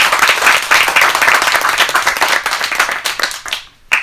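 Audience at a stand-up comedy show clapping loudly and continuously, a dense close crowd of hands that thins out near the end.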